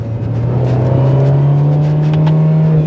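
An Alpine A110 S with a 292 hp engine revs as it downshifts through the gears into a tight corner. The engine note is loud, close and continuous, with its pitch climbing steadily throughout.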